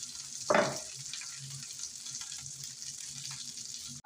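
Swedish meatballs fry in a pan with a steady, close sizzle. A brief clatter of stirring comes near the start, and there is no talking.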